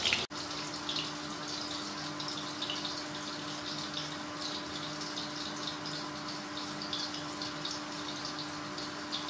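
Tap water runs steadily over bitter gourd being washed in a home kitchen, a constant close wash of splashing and trickling that holds at an even level throughout, with no talking.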